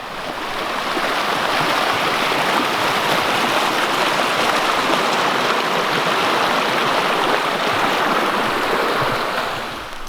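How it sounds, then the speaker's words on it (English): Rushing river heard from a high spot above it, a loud, steady broadband roar of fast water that swells in and holds for the whole stretch, with no voices. "That river we crossed back then, I can hear it from way up here, so it must be ripping."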